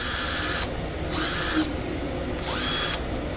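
A Keelat impact wrench runs in three loud bursts of rapid mechanical hammering, each about half a second long, separated by brief pauses, close to the microphone.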